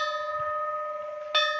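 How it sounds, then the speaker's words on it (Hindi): A temple bell rings at a hilltop shrine near Munsiyari in Pithoragarh, a sustained metallic tone with layered overtones that hangs and decays, then a second fresh strike lands near the end, close and clear with no talk. "घंटी बज गई।"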